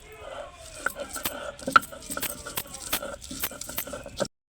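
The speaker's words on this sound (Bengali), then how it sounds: "এখানে আমরা আর কিছু রসুন দিয়ে নিলাম কুচি কুচি করে দিচ্ছি" A knife chopping two or three garlic cloves finely on a board, with a quick, uneven series of sharp taps close up that stop abruptly at the end.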